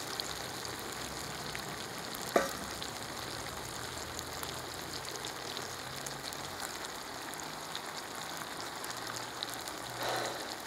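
Potatoes and chicken drumsticks sizzling in a new 12-litre kazan, a faint, even crackling hiss continuing throughout with one brief knock early on.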